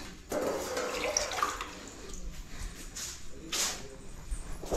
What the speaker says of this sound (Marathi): टोपची त्याच्यात टाकला पाणी.